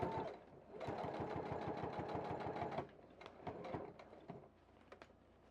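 Sewing machine stitching a strap onto a photography accessory bag, a fast steady mechanical chatter for a few seconds, then slower bursts of stitching as the needle runs, close and fairly quiet.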